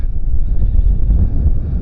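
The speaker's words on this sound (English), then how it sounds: "It's very windy up here." Heavy gusting wind on a North Yorkshire coastal clifftop buffets the microphone, a low rumbling roar that swells and dips for a couple of seconds.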